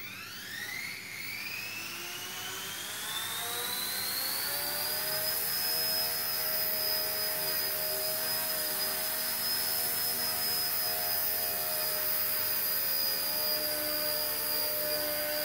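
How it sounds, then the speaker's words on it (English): An XK K124 EC145 RC helicopter spins up and hovers indoors, its electric whine rising in pitch over the first few seconds and then holding at a steady, loud, close hum. "So let's just try flying in high rates now."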